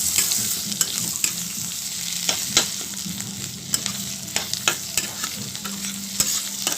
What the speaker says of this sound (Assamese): এইখিনি মই আলুখিনি ভাজি লৈছোঁ ধুনীয়াকৈ